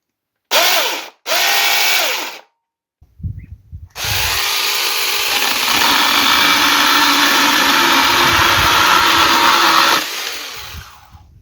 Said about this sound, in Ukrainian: Пилка готова до праці.